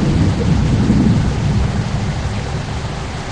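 Heavy rain hissing steadily with a deep rolling thunder rumble in the Bus Simulator Indonesia game, loud and continuous for a few seconds with no talk.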